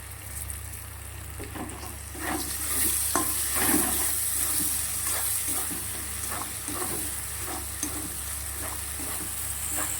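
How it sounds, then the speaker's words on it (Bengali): Spice paste with sour yogurt fries in a pan for a katla fish dish, a steady soft sizzle with repeated scraping stirs and light utensil knocks, close and moderately quiet, no voices. "মশলাটা কিন্তু আমার খুব ভালো করে ভাজা হয়ে গেছে।"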